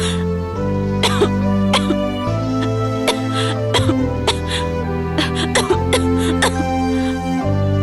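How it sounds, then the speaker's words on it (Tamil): A woman coughs repeatedly in short sharp bursts over steady background music, the coughs spaced irregularly across the clip. "திடீர்னு இப்படி இருமிட்டு இருக்க?"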